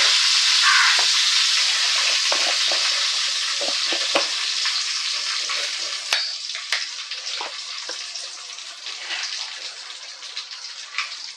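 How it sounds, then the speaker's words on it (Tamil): Oil frying on a low flame, giving a dense, steady sizzle that is loud at first and slowly fades, with scattered soft clicks from stirring. No voices. "நல்லா பொரியட்டும்"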